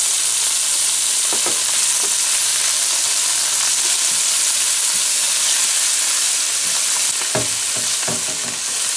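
Onion and mixed vegetables frying for fried rice, a loud, dense, continuous sizzle with occasional stirring knocks and scrapes in the pan.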